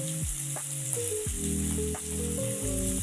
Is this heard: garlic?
yes